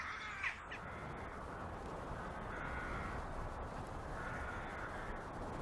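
A raven caws once near the start, then the sound settles into a broad, steady outdoor rush with no voices.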